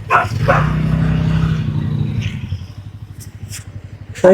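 Village dogs barking at dusk, a few short barks near the start and again toward the end over a steady low engine rumble from a nearby vehicle.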